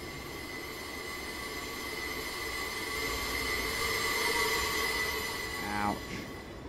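Simulated train in Train Simulator 2017 on the Portsmouth Direct Line, rolling slowly through a train wash: steady rumbling rail noise with a high metallic squeal building throughout, then a brief clatter near the end.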